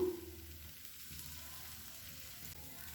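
Rava dosa batter sizzles in oil on a hot griddle, a faint, steady crackling hiss with no talk.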